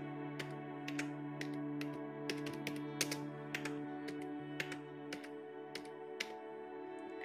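Steady, irregular taps on a laptop keyboard while filling cells in an Excel spreadsheet, each keystroke crisp and close over a constant low electrical hum, with no talking.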